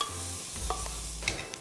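Soaked lentils and a pinch of turmeric get a quick stir in a hot pan with dalia. The pan sizzles steadily and close up, with brief scraping stir sounds and a couple of sharper clicks near the end, and nobody speaks.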